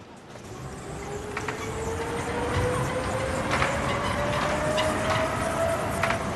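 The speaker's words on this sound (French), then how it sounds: "Au pied des bureaux d'affaires circule le métro monorail." An elevated monorail metro train rumbles steadily past at moderate distance, a rising whine running through the noise as it moves along, with faint clicks of the track.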